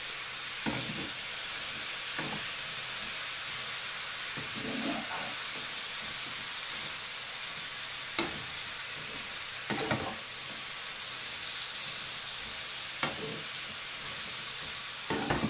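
Onions and zucchini sizzle steadily in a pan with a constant frying hiss, while a spoon scrapes and stirs them in occasional sharp strokes.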